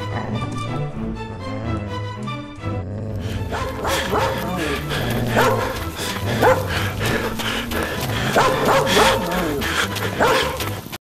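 A dog barks repeatedly in sharp, loud bursts close by, mixed with yips and whimpers, while people talk and exclaim over it.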